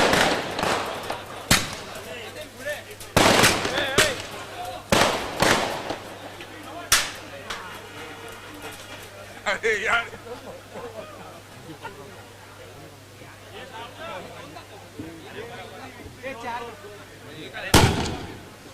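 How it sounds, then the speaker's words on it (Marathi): Firecrackers burst at an outdoor cricket tournament prize ceremony: a series of sharp, loud bangs in irregular bursts, with a final crack near the end, under continuous commentary and crowd noise. "फटाक्यांचा जल्लोष होतोय"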